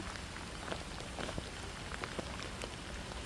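Steady rain falls across a vegetable garden with papaya plants, a soft, even hiss sprinkled with brief distinct drop ticks throughout, with no voices.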